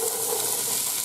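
Carrot, with potato and onion, drops into hot oil for a carrot and orange soup, producing a brief burst of steady, bright sizzling and hissing, close and without talk.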